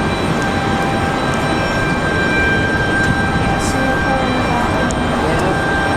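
An American Airlines Boeing 737-800 jet at Raleigh-Durham International Airport gives off a loud, steady broadband roar that holds for the whole stretch, likely mixed with wind, with no clear voices over it.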